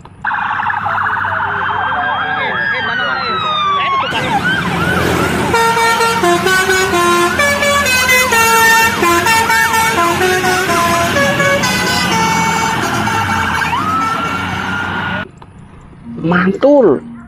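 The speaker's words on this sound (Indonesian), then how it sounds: "Kali ini ada bus Persib Bandung teman-teman." The Persib Bandung team bus passes close by, sounding a loud, melodic multi-tone horn that plays a long sequence of shifting notes over engine rumble before cutting off, followed by brief noise.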